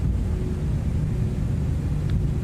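Aircraft engine noise from the X-Plane 12 flight simulator game: a steady, loud low rumble with a faint constant tone, running on alone with no talk.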